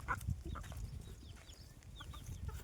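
Desi chickens cluck softly in short scattered bursts, several birds close by against a quiet farmyard background on a goat farm.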